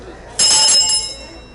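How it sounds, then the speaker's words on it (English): A hand bell rings out once, loud and close, at a street-renaming ceremony, its bright metallic ring sustaining and fading over about a second; faint voices murmur underneath. "walk with the bell"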